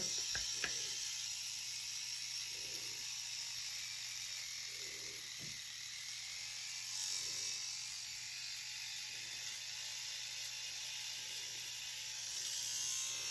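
A cheap knockoff electric facial hair trimmer buzzes steadily and faintly for a long stretch, with a constant motor whine and soft rhythmic changes as it moves across the face.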